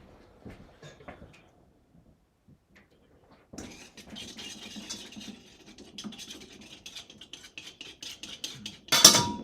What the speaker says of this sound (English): So we're going to be whisking those up.